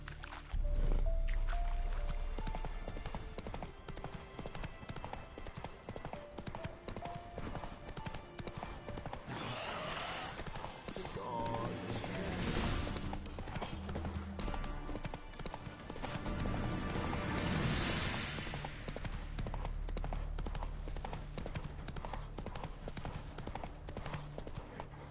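Horse hooves clip-clopping at a trot in The Witcher 3 video game, a steady close rhythm over wind and ambient game sound, with occasional whinnies and snorts.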